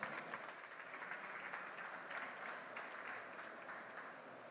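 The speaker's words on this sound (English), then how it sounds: "Big applause." Audience applause at a South Summit 2016 startup conference, a steady wash of clapping from a large crowd filling the room for several seconds.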